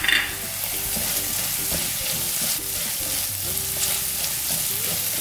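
Coriander, fennel and black pepper hit a frying green chicken masala, giving a loud, close sizzle with the brisk scrape and rustle of stirring throughout and no talking.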